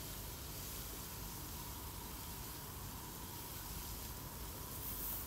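Mutton karahi sizzles in a pan as the meat fries with ginger, garlic and spices. A steady, even hiss of frying carries on without a break from start to finish, with no voices over it.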